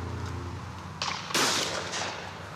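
A single sharp gunshot from a shoulder-fired gun cracks out at a shooting event, close and loud, followed by a brief decaying echo over steady background noise.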